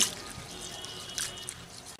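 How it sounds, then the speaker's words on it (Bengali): Rice being washed in water in a kitchen, soft trickling and dripping with small splashes, close and fairly quiet, no talking. "ভালো করে চালটাকে বেশ কয়েকবার জল পাল্টিয়ে আমি ধুয়ে নিচ্ছি"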